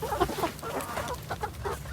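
Meat chickens cluck softly in a series of short, close murmuring calls on a small farm.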